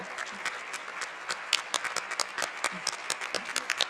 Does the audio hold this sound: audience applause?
yes